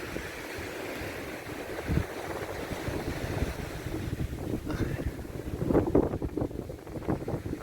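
A motorboat passes on the water along the coast of the Dominican Republic, a low engine rumble that swells toward the end under steady wind noise across the microphone.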